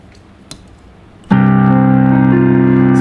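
Piano playing a title theme intro with both hands, a loud chord striking after a quiet moment and sustaining with notes changing above it.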